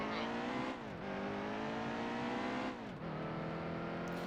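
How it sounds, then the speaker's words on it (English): Race car engine in NASCAR Heat 2 at Bristol during qualifying, a loud sustained whine that dips twice as the car lifts off and then winds back up to speed. "let me know if the engine sounds are too loud or too soft, or if they're even there."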